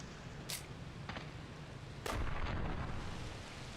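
Gunshots in the Shadow Tower video game: a few sharp, fairly faint reports, the second one heavier and followed by a lingering low rumble.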